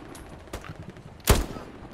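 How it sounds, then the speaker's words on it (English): Gunfire in the WWII shooter Hell Let Loose on PS5: a few sharp reports, one loud close shot standing out among fainter distant shots, with no talk. "Where are you shooting me from?"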